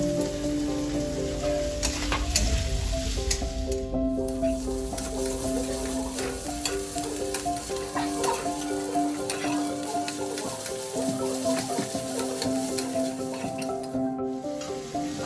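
Chopped green chilies fry in hot oil for street-style veg chowmein and give a steady, close sizzle throughout, broken by light scraping and stirring clinks, with no voices.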